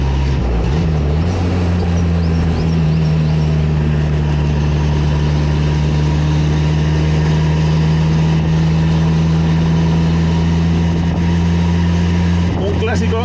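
A classic Renault Caravelle convertible from the 1960s, engine humming steadily while driving, close and loud, with a strong low drone and a wavering pitch early on.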